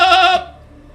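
A voice imitates a goat with a short, loud, wavering bleat that fades out after about a third of a second, leaving quiet background.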